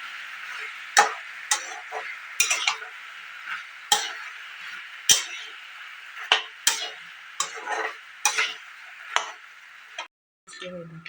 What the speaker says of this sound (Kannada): ಶುಂಠಿ ಬೆಳ್ಳುಳ್ಳಿ ಪೇಸ್ಟ್ನ ಹಾಕಿ ಚೆನ್ನಾಗಿ ಮಿಕ್ಸ್ ಮಾಡ್ಕೊಳ್ಳಿ